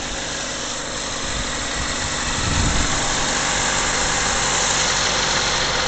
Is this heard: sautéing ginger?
no